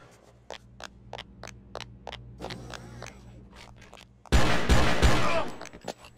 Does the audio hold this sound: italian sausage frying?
no